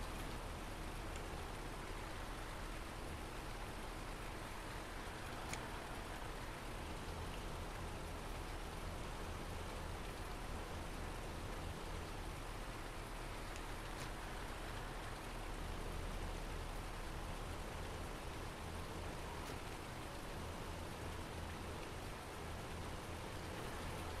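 Rain in Farming Simulator 19 on the PS4 falls as a steady, even hiss of drops on surfaces for the whole stretch, with no talk.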